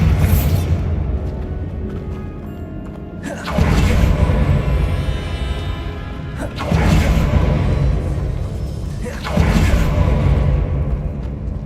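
Hogwarts Legacy's Bombarda spell explodes in three heavy, booming bursts a few seconds apart, each a loud crash with a rumbling tail that overlaps the next, and no clear talk over them.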